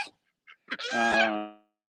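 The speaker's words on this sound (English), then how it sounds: "Look, our ducks are coming up close. So these are 2 ducks we got gifted to us. These are mallards." A pair of pet mallard ducks call close by on a farm: a couple of brief soft notes, then one loud, drawn-out harmonic quack-honk that swells and fades, with no other sound around it.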